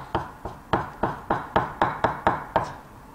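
A kitchen knife slices food into thin strips on a cutting board, giving about ten crisp, evenly spaced chops in a steady rhythm, close and clear with no voices.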